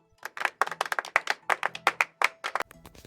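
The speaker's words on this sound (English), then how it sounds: "Everyone cheers and claps for Pete and the Wright brothers." Clapping sound effect: a quick series of sharp, close hand claps in an uneven rhythm, about two dozen in all, without audible cheering.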